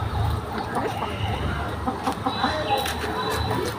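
Ten chicken chicks loose on a rooftop give small clucks and peeps over a low outdoor rumble, with brief faint sounds in the background.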